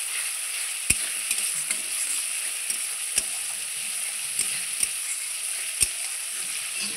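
Spice paste frying in oil for a Bengali river-fish curry, a continuous bright sizzle with scattered stirring scrapes and a few sharp utensil taps, close and alone.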